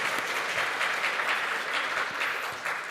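Congregation applauding in a church service for a choir member, a dense even burst of clapping from many hands, fairly distant and steady for the whole stretch.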